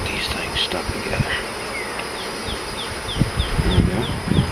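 Honeybees buzz steadily during a hive inspection while bearding on the hive, a close, continuous droning hum with occasional individual bees flying near and a brief high whistling chirp sequence.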